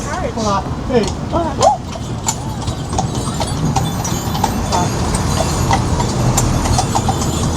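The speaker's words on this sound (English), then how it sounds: "We're on a horse and cart." Horse hooves clip-clop steadily as a horse-drawn carriage tours the streets of Ponta Delgada, Portugal, a continuous rhythmic trot with rolling wheels and street noise, while people talk and a horse briefly calls near the start.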